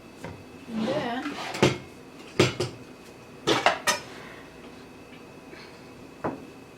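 A spatula scrapes a mixing bowl while a no-bake mini Oreo and white chocolate raspberry cheesecake is being made, giving a few sharp clinks and scrapes close by, with some brief talk.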